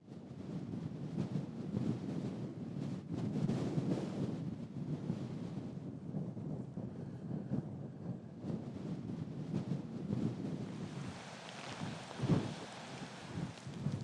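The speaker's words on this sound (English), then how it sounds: "No sooner have we got here than the rain's come in" Rain and gusting wind on a mountainside, a steady broadband wash that buffets the microphone and swells and eases in loud gusts throughout, with no voices.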